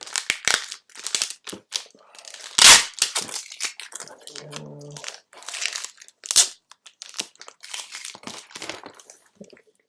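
Taped plastic packaging being pulled and torn away during an unboxing, with sharp crinkles, snaps and rustling bursts in an irregular rhythm, close and fairly loud, a few brief spoken words mixed in.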